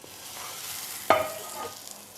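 Banana pancake batter sizzles steadily in a frying pan at a kids' breakfast cooking session, a soft continuous hiss with a brief sharper crackle partway through, no talk.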